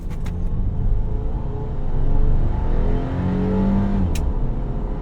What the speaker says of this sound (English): let's do one little 0 to 60 pull to make sure this thing really is shifting how it's supposed to